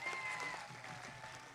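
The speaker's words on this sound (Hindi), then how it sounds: "राहुल जी को तालियां बजा के फिर से एक बार अभिवादन कीजिए।" Audience at a tribal convention in Tamsala, Hingoli, Maharashtra applauding Rahul Gandhi, soft diffuse clapping from a distant crowd for a brief moment.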